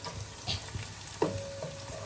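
Dried red chillies frying in oil in a home kitchen pot, a quiet, low sizzle with occasional soft pops and stirring clinks, no voices.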